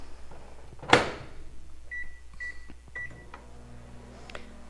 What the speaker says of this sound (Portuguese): Coloquei ali uns segundinhos no micro-ondas